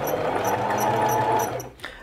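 A home sewing machine stitching fabric for a bra, running in one steady continuous whir before stopping abruptly near the end, followed by a brief faint knock, with no talk.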